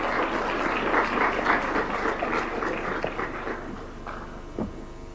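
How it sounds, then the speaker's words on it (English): A room of guests at a Senate retreat in Nakuru County applaud the session chair, a dense, steady clapping that gradually thins and fades. "A round of applause to the session chair that has just left the stage"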